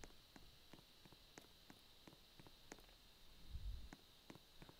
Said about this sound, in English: The only sounds are just my footsteps.